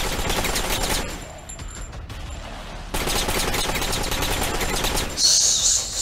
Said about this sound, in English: Look at him sliding. Oh, yeah, he's strafing us now. So much brass.